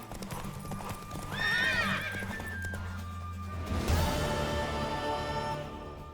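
Hooves clip-clop steadily as a horse moves in The Witcher 3 game, then it whinnies loudly up close, its neigh rising and falling over the continuing hoofbeats and a low musical drone.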